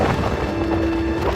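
Thunderstorm sweeping over a beachside restaurant, a continuous roar of wind and rain with deep rumbling, loud and dense, with a sustained tonal hum running through it.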